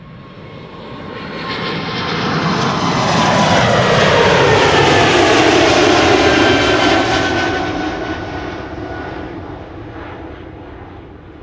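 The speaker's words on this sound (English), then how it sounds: "Bombardier C Series 300 outbound to Paris Charles de Gaulle" A Bombardier C Series 300 jet airliner departs Schiphol bound for Paris Charles de Gaulle. Its engine roar swells loud as it passes close, with a sweeping tonal whine, then fades gradually into the distance.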